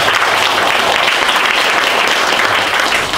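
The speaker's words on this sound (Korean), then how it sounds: "김용인 회장님께 뜨거운 박수 다시 한번" An audience at a lecture event claps for the guest lecturer, a dense, continuous wash of applause that stays loud and even throughout.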